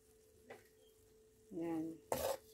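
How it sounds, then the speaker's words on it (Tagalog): Udon noodles sautéed with sardines being stirred in a pan, a few soft scraping and clinking strokes of a utensil against the cookware, quiet and close. "Siyempre, haluin natin."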